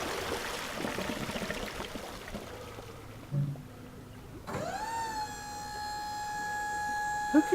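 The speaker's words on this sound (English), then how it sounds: "Let's drain the water out." Water drains out in the video game We Happy Few, a rushing, pouring flow for several seconds, then a loud steady mechanical whine rises and holds.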